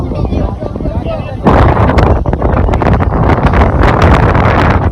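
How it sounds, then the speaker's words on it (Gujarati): Strong, cold gusting wind buffets the microphone on a mountain, roaring louder after a quieter opening, with a voice faintly audible underneath. "આયા બરો એકલી ઠંડક મસ્ત પવન આવે ઠંડો"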